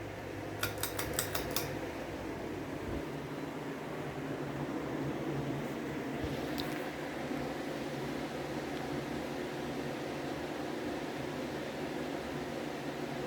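A 42-inch Gulf Coast Georgianne ceiling fan running at medium speed gives a steady, even whoosh and hum throughout, with a few faint metallic clinks near the start.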